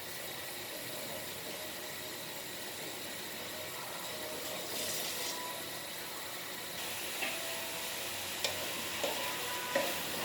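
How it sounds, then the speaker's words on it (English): Mushroom chilli with green peas and lime frying in a pan, a steady soft sizzle running throughout with occasional light scrapes and taps of stirring, fairly quiet and with no talk. "Mix it very well and let it cook for just 5 minutes, because mushrooms get easily cooked."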